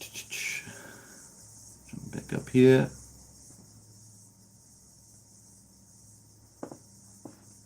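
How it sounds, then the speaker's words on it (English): Crickets trill outside on a New Zealand beach in summer, a steady, thin, continuous buzz that runs faintly through the whole scene, with a man's brief speech and a few bumps near the start. "I can hear the crickets outside."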